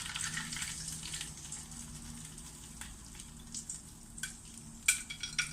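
Garlic fries in hot oil while noodles are cooked in a Thai kitchen, giving a steady soft sizzle with occasional sharper crackles and stirring clicks, no one speaking.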